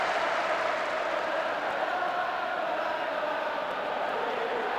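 Steady, dense crowd roar and applause fill a football match in PES 2026 on PS2, holding evenly at a constant level throughout without any distinct peaks.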